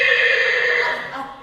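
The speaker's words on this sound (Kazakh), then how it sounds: "Аттың дауысы, тамаша." A horse neighing in one loud, shrill whinny that wavers for over a second and then trails off, heard up close.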